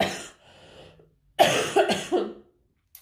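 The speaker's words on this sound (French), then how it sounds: "je suis encore un petit peu malade, donc je risque de tousser pendant cette vidéo" A woman coughs, a faint throat sound first, then three sharp, close coughs in quick succession after a short pause, with quiet room tone between them.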